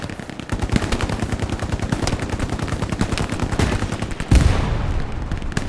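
Sustained suppressing machine-gun fire in the WWII shooter Hell Let Loose, a fast, loud, unbroken rattle of automatic shots with a heavier blast near the end.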